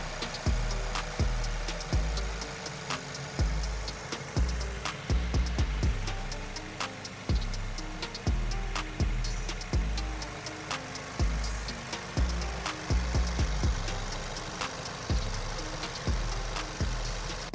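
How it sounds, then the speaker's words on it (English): A 2024 VW GTI, newly repaired after a wreck, idles steadily in a workshop with its engine running, giving a low rhythmic thumping pulse that stays even throughout, close by and alone with no voices. "It sounds really, really good. Yeah, the car is idling now."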